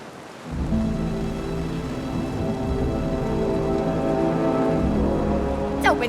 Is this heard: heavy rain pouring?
yes